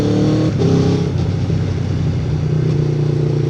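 A Subaru Impreza with a large aftermarket exhaust revs and pulls away nearby, its loud engine note rising and shifting across a few seconds, with no talk over it.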